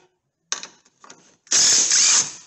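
A power gun spins suspension strut bolts loose on a Range Rover L322 during air strut replacement: two short whirring bursts, then a louder sustained run of about a second, all close and with no talk.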